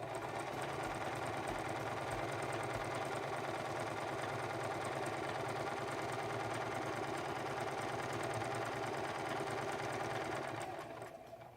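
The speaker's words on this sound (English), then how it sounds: "Now let's sew out our zigzag stitch." A Singer Promise 1408 sewing machine sews a zigzag stitch, a steady close mechanical whirring and rapid needle clatter running continuously before winding down at the end.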